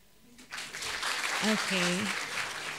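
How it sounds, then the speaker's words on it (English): Applause swells up from an audience during a campus visit by ASEAN country representatives, a broad steady clapping while someone speaks briefly over it. "give applause"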